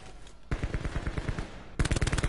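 Rapid automatic gunfire in a Counter-Strike-style shooter, a dense burst of fast shots followed by a brief lull and then a second, louder close-range burst, with no talking over it.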